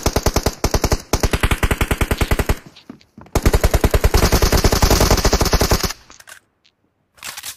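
Automatic gunfire in PUBG Mobile on the Livik map: two long, rapid bursts of loud machine-gun shots, each a dense run of evenly spaced reports, with a short pause between them and a brief trailing shot near the end.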